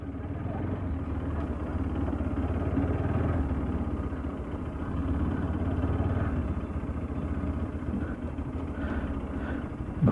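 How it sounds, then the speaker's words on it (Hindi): A Bajaj Pulsar RS 200 motorcycle with a clutch switch problem runs and accelerates, its engine a steady close low drone that rises and falls, with wind noise and someone speaking over it. "देखता हूँ यहाँ पे कितना एक्सेलरेट हो पाती है बाइक।"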